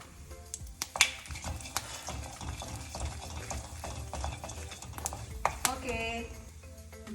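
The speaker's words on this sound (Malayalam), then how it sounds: "ഒരു സ്പൂൺ എടുത്ത് നന്നായിട്ട് ഇളക്കുക" A spoon stirs sambar in a pot, making repeated clinks and scraping against the metal close up. Steady sizzling or bubbling runs underneath and a voice talks over it.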